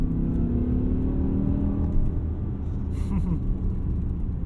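A 2008 BMW E60 M5's V10 engine grumbles steadily from inside the cabin while driving, a continuous low rumble with a slight rise in revs, under people talking.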